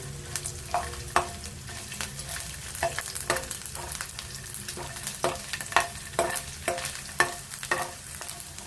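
Fennel seeds and five or six garlic cloves fry in oil in a pan with a close, crackling sizzle, broken by a regular series of sharp scraping stirs and taps of the spoon against the pan.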